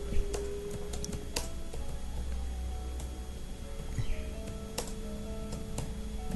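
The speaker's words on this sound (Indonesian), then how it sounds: "misalkan saya mengetik seperti ini." Soft, quick keystrokes tapping on a computer keyboard in uneven bursts, fairly close, over a low steady background hum.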